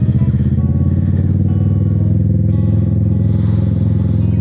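A Kawasaki Z650 twin-cylinder motorcycle engine drones steadily and loudly while riding, with a deep even thrum and a little wind rush.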